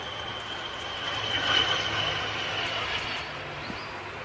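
Aer Lingus ATR 72 airliner coming in to land at Manchester Airport, a distant, steady broadband roar with a faint whine that swells slightly midway, heard from afar without talk.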